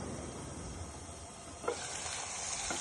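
Bean seeds fry in a spiced masala with a soft, steady sizzle, fairly quiet, with a couple of brief utensil taps near the end.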